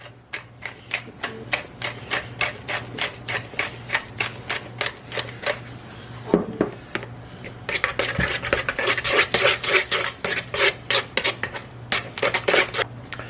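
Fresh black pepper cranked through a grinder over a vegan gyro sauce with dill and lemon, a long run of close, sharp, rhythmic clicking twists, briefly pausing before a busier gritty grinding stretch and more clicks.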